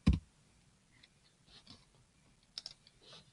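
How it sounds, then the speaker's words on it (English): Computer keyboard typing comes as a few short bursts of light, close clicking keystrokes scattered over a quiet background, with one sharper click right at the start. "I'm just going to start typing."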